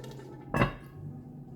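A lid set down on a pot of simmering pork and sauerkraut, one short metallic clink near the middle with a brief ring, close by, over a faint quiet background.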